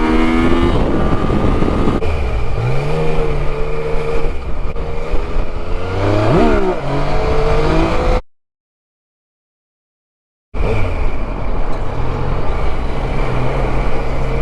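A Yamaha Tracer 900 motorcycle rides through rush-hour traffic, its engine droning and rising in pitch through gear changes, loud and close with wind noise, cut by a few seconds of complete silence.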